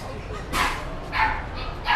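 A puppy in a night-time pet store in Chungmuro gives two or three sharp, high yapping barks spaced apart, close by.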